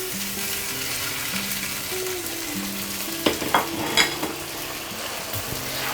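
Whole spices fry in hot oil in a wok with the heat switched off, giving a steady soft sizzle under a low drone, with a few sharp clinks and scrapes from a utensil partway through.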